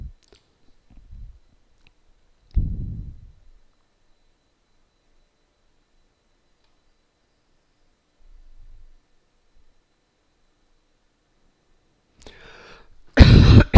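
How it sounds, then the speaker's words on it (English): Someone coughs a few times in short, isolated bursts, near and moderately loud, separated by long stretches of near silence, with a louder rough burst at the very end. "And I apologize for the coughing"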